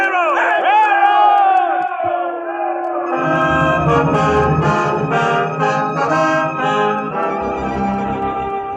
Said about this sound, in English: People cheering and yelling.